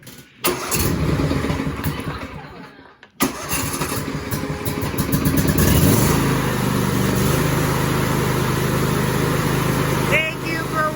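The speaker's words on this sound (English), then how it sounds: "I had to do a cold startup on a tractor." Tractor engine started cold: cranking, a brief pause, then the engine catches and settles into a loud, rough idle, with a voice talking over it.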